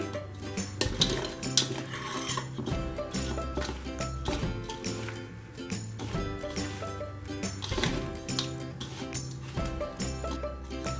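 A spoon stirs ghee into roasted rice flour in a metal pan, producing repeated scraping and clinking strokes at close range over a bed of background music, with no talking.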